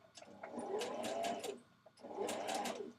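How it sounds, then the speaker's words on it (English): A sewing machine stitches a 1/4 inch seam allowance in two quick, quiet bursts, its motor whirring up and down in rhythmic runs with a short pause between them. "we'll stitch down a 1/4 inch seam allowance"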